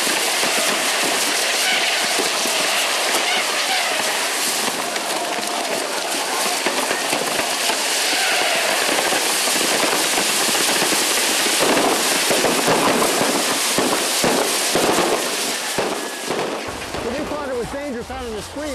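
Fireworks burst and crackle in a crowded street in Mexico during a running of the bulls, a dense, continuous barrage of sharp pops and bangs with a whistling rocket near the end and crowd noise underneath.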